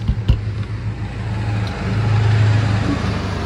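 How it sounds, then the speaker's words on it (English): Nearby highway traffic by a parked 2024 KZ Connect 313MK fifth-wheel trailer: a continuous low roar of passing vehicles with engine rumble, swelling slightly as a vehicle passes, no speech. "We apologize for the road noise."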